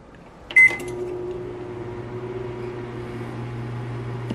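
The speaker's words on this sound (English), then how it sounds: "So, we're just gonna put in microwave." A microwave oven hums steadily after a short beep and clunk near the start, its low drone and fan noise holding evenly to the end, with no speech.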